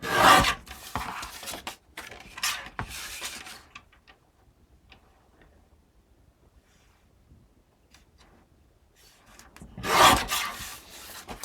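Sheets from a 6x8 Simple Stories paper pad are trimmed down to size for mini album pages, giving dry rasping cuts in bursts at the start and again near the end, with a quiet gap between.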